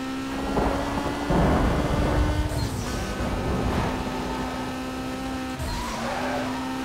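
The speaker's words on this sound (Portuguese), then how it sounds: "Chovendo." Rain and rumbling thunder in the racing game Need for Speed Most Wanted, a steady wash of rain under a droning car engine, with low rolling thunder swelling in the background.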